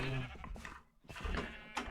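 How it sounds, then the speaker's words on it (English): A Minecraft sheep bleats twice in a row, each call a short nasal, wavering cry heard close and clear with a brief gap of silence between them. "So we now have one sheep of every color in our pin."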